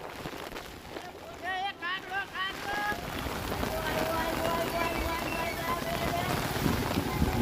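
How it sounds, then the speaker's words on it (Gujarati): Heavy, steady rain falling in Jetpur, Rajkot district, Gujarat, a dense continuous hiss of downpour on surfaces that holds throughout, with some brief chirping sounds near the start. "રાજકોટમાં જેતપુરના દ્રશ્યો જુઓ કે જ્યાં અવિરત વરસાદ વરસી રહ્યો છે"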